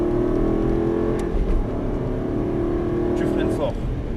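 An Aston Martin V8 on a track at Dreux builds revs at full throttle, a sustained engine drone that rises in pitch, heard under someone talking throughout.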